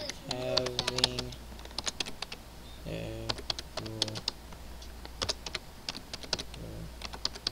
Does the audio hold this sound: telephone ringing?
no